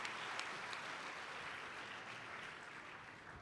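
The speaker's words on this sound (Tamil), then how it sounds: "கைதட்டுகளோடு." Audience applause from a crowd in Tiruvallur at a comedy debate show, a continuous wash of clapping at a steady, fairly soft level for several seconds with no voices over it.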